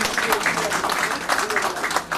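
Audience applause at an Indian ceremony honouring Samta Sainik Dal members: a steady patter of many hands clapping throughout, with someone speaking over it.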